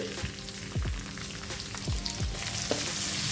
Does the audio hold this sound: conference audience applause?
no